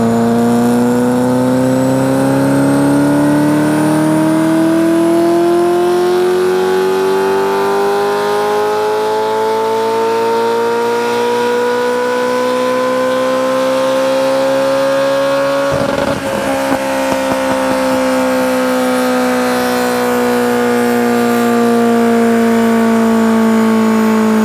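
A 30-year-old Ferrari 348 engine revs steadily upward on a dyno for about fifteen seconds, its pitch climbing in a loud, continuous wail, then it lifts off with a brief crackle and settles into a lower drone.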